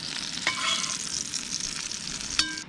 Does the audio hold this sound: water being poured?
no